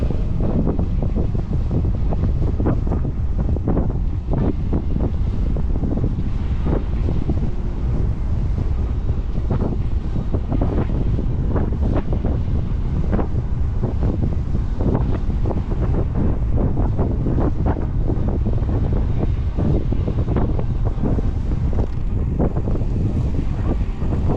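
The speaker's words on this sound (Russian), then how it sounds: "Сегодня ветрено так." Strong wind on the Sochi coast near Adler in December roars and buffets the microphone in a constant loud rumble, with gusty thumps and a faint wash of water beneath.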